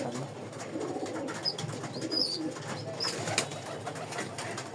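Domestic pigeons coo in soft, repeated throaty calls close by, overlapping one another amid light rustling and background chatter.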